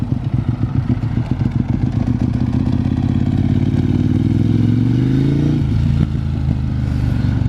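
Ducati 1198 sport bike fitted with a Termignoni exhaust, loud and near, a gruff, lumpy idle building into a rising rev that drops away, then a steady throaty drone; no voices over it.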